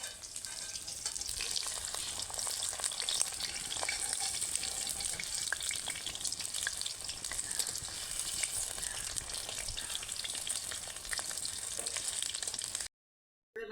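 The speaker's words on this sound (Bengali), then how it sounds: "একটু ভালো করে ভেজে নেব" Food fries in a pan with a steady, dense sizzle that runs loud and unbroken for most of the stretch, then cuts out briefly near the end.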